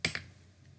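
Two quick computer keyboard keystrokes while code is being typed, a sharp close tap followed by a second softer click, then quiet room tone.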